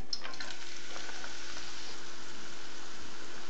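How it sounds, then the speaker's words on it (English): Onion and garlic sauté in hot vegetable oil in a pan, a soft continuous frying hiss with faint crackle, steady and close, no talking. "Saute for 10 minutes, just so the onion's translucent."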